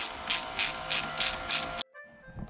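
A ratchet wrench undoing a 10mm bolt on a Kawasaki Z650 motorcycle gives six quick, evenly spaced metallic clicks close up, then cuts off abruptly, leaving only faint handling noise.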